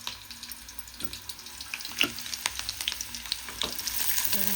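Leafy greens added to hot oil with fried onions, a close crackling sizzle broken by frequent stirring clatters and scraping, loud and busy for several seconds with no voices.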